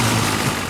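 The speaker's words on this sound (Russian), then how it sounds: "У этой лодки есть мотор." A cartoon boat motor running steadily with a low rumbling engine drone, close and loud, heard alone.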